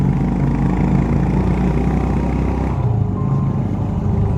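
Motorcycle riding along a Himalayan mountain road in the Kinnaur valley, Himachal Pradesh, with a steady, loud engine drone and rumble throughout, close to the microphone, with no talk.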